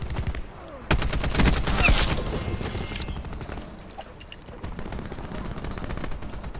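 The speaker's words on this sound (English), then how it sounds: "I've never had to shoot somebody so many times with a peacekeeper." Peacekeeper shotgun firing in a video game, a quick series of loud, sharp shots early on followed by scattered fainter gunfire, with little talk over it.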